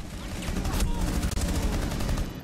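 Pistol fire in the shooter game Rainbow Six Siege: a rapid run of sharp, close shots cracking over a dense, noisy game mix, growing quicker toward the end.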